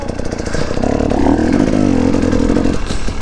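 TPI two-stroke enduro motorcycle riding over rough terrain, engine droning and revving steadily for a few seconds with clattering from the ground, fairly close.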